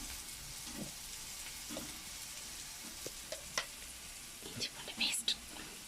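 Ginger garlic paste sautéing in a pan, a soft steady sizzle with occasional stirring scrapes and clinks, a few sharper spatters toward the end.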